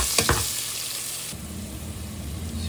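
Oil with annatto and garlic sautéing in a hot pan for beef mechado, a dense close sizzle with a few clattering stirs at the start, continuing as a steady loud hiss.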